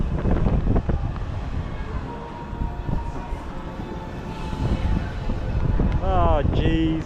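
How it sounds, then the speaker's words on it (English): Strong wind buffets the microphone at the top of a fairground ride at a winter funfair. It makes a continuous loud rumble and roar, with a brief rising mechanical whine near the end. "Oh, it's windy."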